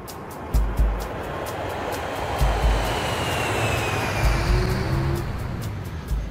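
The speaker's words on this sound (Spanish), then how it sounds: "están acostumbradas al ruido de los aviones que despegan y" A distant airplane roars steadily, its engine noise swelling and lingering, with a few soft thumps nearby.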